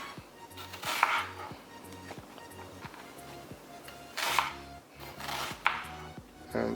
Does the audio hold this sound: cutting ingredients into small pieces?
yes